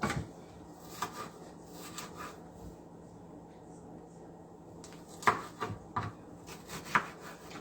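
A knife cuts onions on a board in several scattered strokes, sparse at first and then a quicker cluster of near, crisp cuts toward the end, over a low steady background hum.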